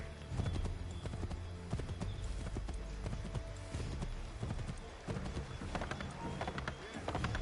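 Horse hooves galloping in Assassin's Creed 3, a rapid rhythmic clip-clop of a running horse with a faint neigh, loud and continuous over a dense game soundscape.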